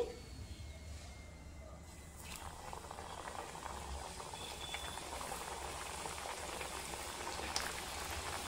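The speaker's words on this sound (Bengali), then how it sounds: "বাকিগুলোও ভেজে নিচ্ছি।" Chicken snacks frying in a pan of oil, a steady dense bubbling and crackling hiss that stays fairly soft and continuous throughout, with no talking.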